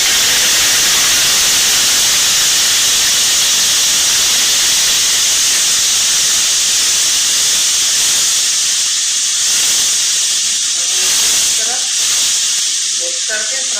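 Onions tipped into hot oil with already-fried cumin for a masala beef dish set off a loud, steady, close sizzle that hisses on continuously, easing slightly toward the end.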